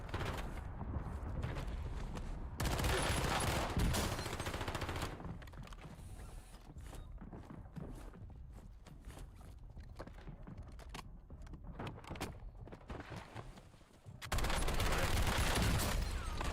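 Video game gunfire in Call of Duty Warzone on Rebirth Island: loud sustained bursts of automatic fire open and close the stretch, with quieter clicks, mechanical rattles and scattered shots between them.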